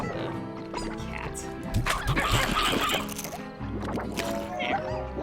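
Chickens cluck in the video game Slime Rancher, a busy run of clucks and squawks mixed with game noises and a voice talking over them.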